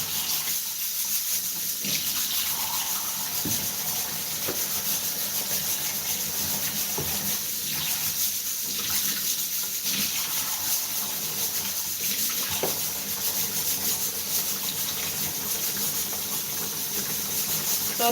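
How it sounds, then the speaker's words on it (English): Tap water runs steadily into a kitchen sink while pork is washed and drained, a constant rushing flow with occasional splashes and clatters throughout. "I'm just draining the extra water from it."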